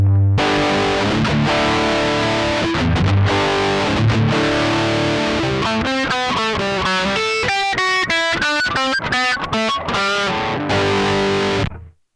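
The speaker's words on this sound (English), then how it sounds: "here's my unaffected distortion sound" A distorted electric guitar plays sustained chords, then shifts into a run of short, choppy picked notes, loud and up close, ending abruptly.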